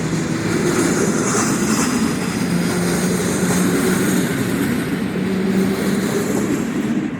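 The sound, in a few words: Intercity train passing in Kołobrzeg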